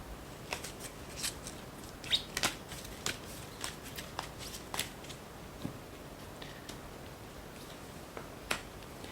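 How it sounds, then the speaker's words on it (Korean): Tarot cards being shuffled and drawn: a run of close, quiet riffles and crisp snapping flicks at an uneven rhythm, with no voices. "3번 분들을 위한 조언 카드 지금 열어보도록 할게요"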